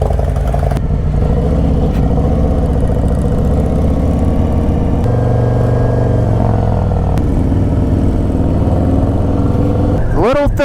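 A Harley Davidson Dyna motorcycle engine rumbles steadily and loudly while being ridden, holding a deep continuous drone with slight shifts in pitch and a brief swell of wind noise near the end.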